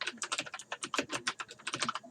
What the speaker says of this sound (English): I know my keyboard's loud, but I love my mechanical keyboard.